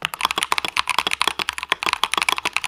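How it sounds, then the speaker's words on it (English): Rapid, uneven clacking of keys on an old computer keyboard, close and crisp, with a slightly hollow rattle to each stroke and no voices. "that one sounds like an old keyboard"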